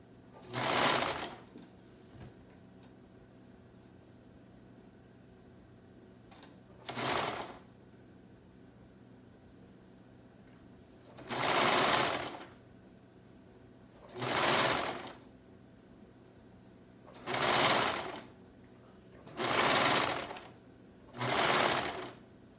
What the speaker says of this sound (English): We get the cuff, sewing the cuff on.